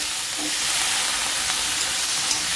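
Potatoes tossed into a hot oil tempering with red chili powder for spicy fasting-style potatoes fry with a loud, dense, continuous sizzle, close by and unbroken throughout.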